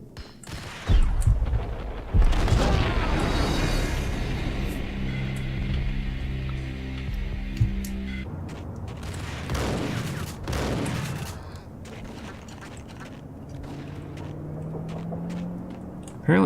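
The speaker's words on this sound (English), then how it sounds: "Apparently the shotgun is the way to go." Shotgun blasts and gunfire in the video game Max Payne: several loud, sharp booms with fast volleys and rumbling echoes, mixed with game music and ambience, and no voices.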